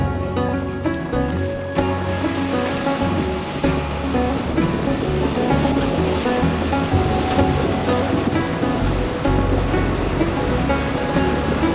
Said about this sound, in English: it's a lot safer just to drive right through the creek